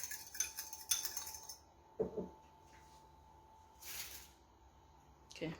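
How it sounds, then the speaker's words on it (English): An egg is whisked in a small container, with light clinks and scrapes of utensil against the vessel coming in short bursts with pauses between them, faint and close, under occasional quiet talk. "break an egg into a nice small container, whisk it all the way"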